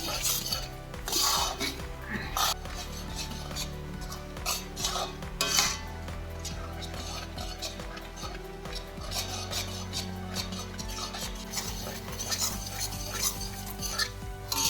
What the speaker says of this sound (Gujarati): જો આમ સતત હલાવતા જ રહેવાનું છે. સારી રીતે હલાવવાનું છે